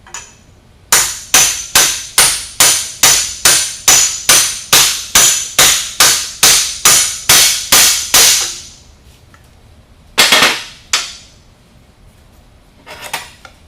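Hammer blows drive an outer metal seal into place using an old bushing as a driver: about seventeen sharp, evenly spaced metallic strikes close by, then a short pause and a few scattered clanks.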